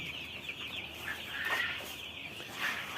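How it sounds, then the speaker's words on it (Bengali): Broiler chickens clucking softly in a steady, overlapping murmur while eating and drinking on a farm, with a few brief louder clucks standing out from the flock. "মুরগি খাবার পানি মানে দুটোই খুব ভালোভাবে খাচ্ছে"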